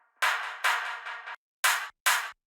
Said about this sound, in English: And without any effects, it sounds like this.